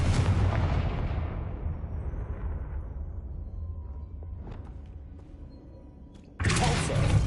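A Confringo explosion spell from Hogwarts Legacy booms loudly, then rumbles away over several seconds, before a second sharp blast hits near the end.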